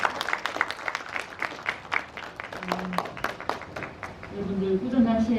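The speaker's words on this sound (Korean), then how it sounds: "오늘 귀한 강의를 해주신 우리 하성철 박사님께 한 번 더 큰 박수 부탁드리겠습니다" A lecture audience claps for a history speaker after a talk on an ancient maritime kingdom, brisk scattered hand claps under a presenter's amplified voice, swelling slightly near the end.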